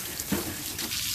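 Tap water pours steadily into an old mop bucket, a continuous close hissing splash with no voices.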